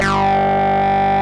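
A synth tone runs through distortion and a resonant filter with the cutoff lowered and the resonance boosted. It makes a sustained, buzzy, droning note with a bright sweep at the start, loud and alone.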